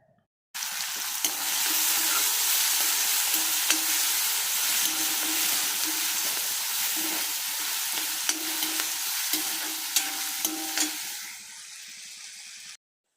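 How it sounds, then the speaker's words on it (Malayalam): Green chilies and ginger sauté in hot coconut oil, a steady close sizzle with faint stirring ticks that holds for about ten seconds and then cuts off. "ഇനി നമ്മൾ പച്ചമുളക് ഇഞ്ചിയൊക്കെ ഒന്ന് വഴറ്റിയെടുക്കാൻ പോവുകയാണ്"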